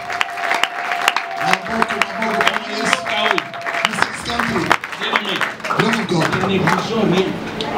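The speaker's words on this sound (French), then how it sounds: "If you are blessed, please applaud for the Lord" A church congregation breaks into sustained, dense applause, claps crackling steadily throughout while a voice carries over the top and some music or singing hums underneath.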